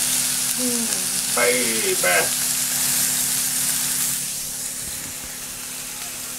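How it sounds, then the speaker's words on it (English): Steady loud sizzling and crackling of burgers frying in a hot pan, with a brief spoken word early on; the hiss softens slightly near the end. "Just want them to sit there and sizzle, sort of thing."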